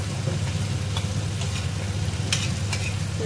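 A paste of ginger, garlic, cashew, raisin and poppy seed sautéing for chicken kosha, giving a soft steady sizzle with a few light stirring scrapes, fairly quiet and close, no voices.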